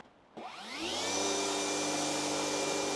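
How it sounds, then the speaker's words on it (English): A table saw spins up to rip timber for a DIY door frame, its motor whine rising in pitch after a click and then settling into a loud, steady hum with no cutting heard yet. "I'm just going to run this down the table saw now"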